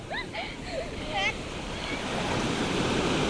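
Ocean waves rolling onto Thiruvanmiyur Beach in Chennai, a broad continuous surf roar with wind buffeting the microphone, while bird-like chirps or voices sound faintly at first.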